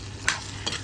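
Dhaba-style chicken gravy being stirred in a kadhai, two quick scraping strokes of the spoon over a soft sizzle, close and brief.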